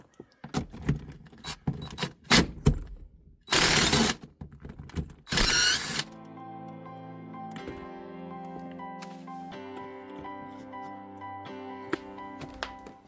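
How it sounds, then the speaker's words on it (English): A nut is being removed from the center console of a 2002 Toyota MR2 Spyder during a shift boot replacement. Close metallic clicks and rattles come in bursts with a couple of louder scraping handling noises, then a quieter steady background. "Alright, I'm going to go ahead and take this nut off of here as well."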